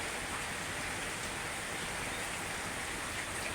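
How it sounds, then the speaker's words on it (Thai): Steady, even hiss of rain falling, unbroken throughout with no voices. "ฝนตก"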